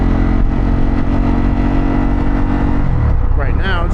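A Harley-Davidson Pan America motorcycle fitted with a Vance Hines exhaust pulls away from a fuel stop, its engine a loud, steady, close rumble that rises in pitch as it accelerates near the end.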